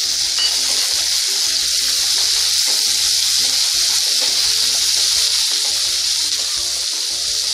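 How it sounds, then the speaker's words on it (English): Chopped onion fries in oil with cumin seeds over a medium flame, a steady, loud, close sizzle that runs unbroken throughout with no voices. "Now add the cut onion."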